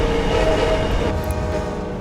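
A Pacific Surfliner train stands at a station platform in a Southern California train simulator game, giving a steady, loud engine drone with a tonal hum that holds throughout, with no talking.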